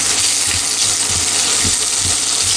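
Potatoes frying with onion and caraway in an oiled pan for a zucchini-potato skillet, a steady loud broadband sizzle with soft scraping stirs, no voices.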